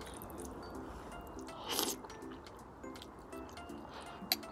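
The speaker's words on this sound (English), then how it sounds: "I'm eating the noodles. Kimchi." Someone close to the microphone eats noodles with kimchi, making soft biting, slurping and squishy chewing sounds in a quiet room, with a faint crunch partway through.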